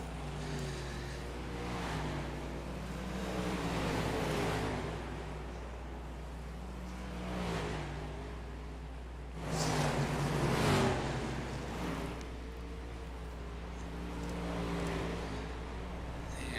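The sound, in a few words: race cars on speedway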